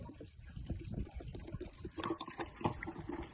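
Fuel is poured into a motorcycle tank at a small shop during a Mongolian bike tour, a faint, soft liquid gurgle and splash that runs continuously with no voices.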